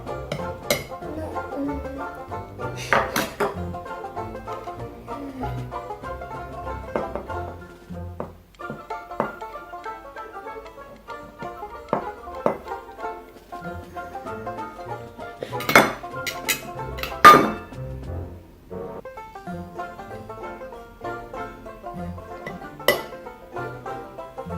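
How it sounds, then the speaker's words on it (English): A spoon clinks against a mug while mixing dry mug cake ingredients for a microwave cake, with scattered irregular scrapes and taps and a few sharper knocks, fairly close and moderately quiet. "So first you're going to mix the dry ingredients and put it into the mug."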